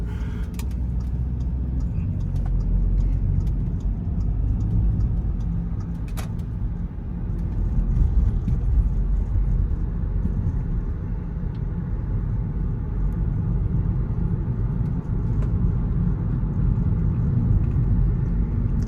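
An Audi A3 converted to S3 spec drives onto a major highway, heard from inside the cabin as a steady low engine and road rumble with a constant tire roar and no clear gear changes.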